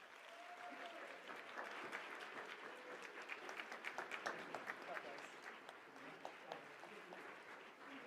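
An audience applauds the finalists of a national laboratory research speech contest, with continuous crowd clapping rolling steadily in a hall while voices murmur underneath.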